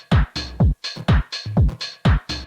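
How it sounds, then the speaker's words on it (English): Lo-fi house one-bar drum loop of punchy kicks, clap, crisp hi-hats and percussion, repeating in a steady loud groove with no voices. "It's just a 1-bar loop, and what it consists of is some hi-hats"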